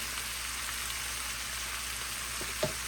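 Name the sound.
lamb chops and vegetables sizzling in a pot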